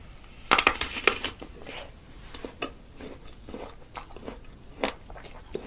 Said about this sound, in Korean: 나도 한입 먹고 줄게.